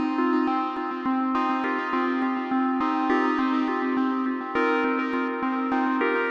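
A five-step sequence from the Orca's Heart V2 Eurorack synth module, a dense buzzy tone stepping through a looping pitch pattern with steady clicking pulses, thick and effected, played alone.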